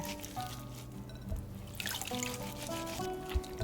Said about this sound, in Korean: 쑥을 흐르는 물에 씻어 바락바락 문질러주며 쑥의 쓴내를 빼줍니다.